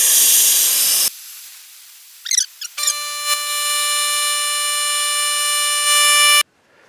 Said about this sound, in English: put my hose in here and just begin to suck up all the fluid I can